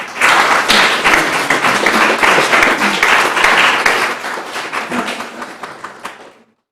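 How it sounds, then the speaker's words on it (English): Audience at an academic panel breaks into loud, dense clapping with scattered sharp claps, sustained for several seconds before tapering off to silence. "both clapping and jazz hands are welcome"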